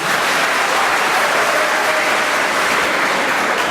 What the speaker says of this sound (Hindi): एक बार बजाओ जोरदार तालियां